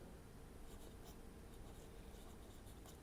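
A pen scratches out an answer by hand on paper, faint and close, with short scribbling strokes in an irregular rhythm over a low background hum.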